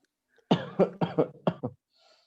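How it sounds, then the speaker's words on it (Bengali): A run of six sharp, close coughs in quick succession, grouped in pairs, then silence. "প্রচন্ড কাশি হয়েছে"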